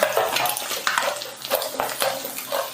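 Carrots stirred into egg fried rice in a pan, a steady run of utensil scrapes and clinks against the metal with a soft sizzle underneath, close and continuous.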